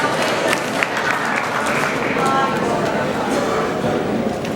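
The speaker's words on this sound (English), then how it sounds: "Another very big hand clap for the rector." A crowd at a university admissions ceremony claps in steady, dense applause that fills the hall at moderate volume, with a voice speaking over it.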